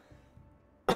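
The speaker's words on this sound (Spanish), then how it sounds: "perdóname por la tos" A single sharp cough bursts out near the end, loud and close, after a stretch of near silence during a strategy game session.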